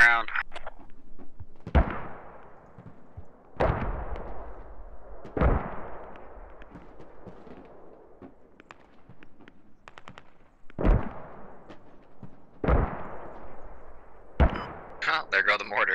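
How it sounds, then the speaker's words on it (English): Mortar rounds in the video game Squad on the Al Basrah map, heavy booms landing one after another at irregular intervals of a second or two, each decaying into a rumbling tail, with players talking between the impacts. "there go the mortars"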